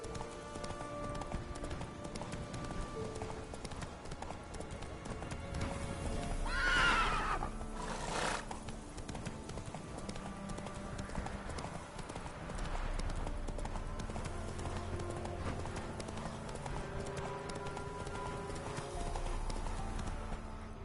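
Roach, a horse in The Witcher 3, gallops with steady rhythmic hoofbeats under game ambience, and a loud whinny breaks in partway through.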